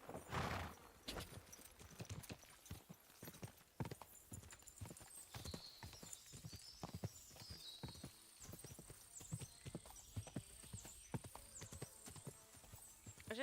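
Horse hooves clip-clop in a steady rhythm in Kingdom Come: Deliverance II, with a whinny near the start and a faint voice in the background.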